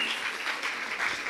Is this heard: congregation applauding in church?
yes